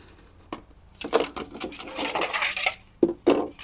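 Scoring a metal panel on a vintage trailer with a blade along a speed square, giving a few sharp scraping and clicking strokes with brief broadband bursts, close and fairly loud, with no talk.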